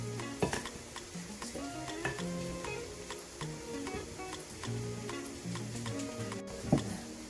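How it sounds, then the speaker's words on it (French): Vermicelli is stirred with water, salt and turmeric in a pot: a utensil scrapes and taps against the metal in an irregular rhythm, with a faint simmer underneath and music playing in the background. "Et là, il faut mélanger."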